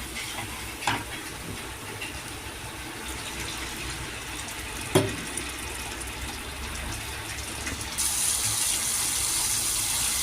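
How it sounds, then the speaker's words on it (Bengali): Water poured into a pan of spiced prawn curry, chingri macher teljal, with a steady sizzling gush of liquid hitting the hot pan, a couple of sharp clinks, and the sizzle growing brighter near the end. "লবণ দিয়ে আমি একটু কষিয়ে একটু জল দিয়ে দেবো"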